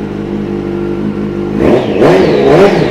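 A 2008 Yamaha FZ1-S motorcycle idles with a low, even engine rumble, then is revved hard twice in quick succession, rising and falling sharply, loud and close.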